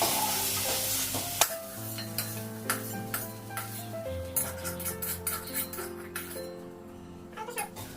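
Potatoes fry in oil in a pan on a gas stove with a soft, steady sizzle. Occasional stirring scrapes and small metallic clinks of utensil against pan punctuate it, and the whole scene stays fairly quiet and close.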